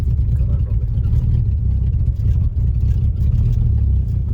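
An old Mercedes W123, abandoned for over ten years and running again, idles close up with a loud, rough, low engine rumble that pulses unevenly and hunts slightly, with no clear revving peak.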